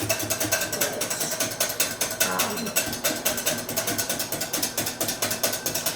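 Skim milk is whisked briskly in a bowl, giving a fast, steady series of clicking, scraping strokes close to the listener that continue without pause.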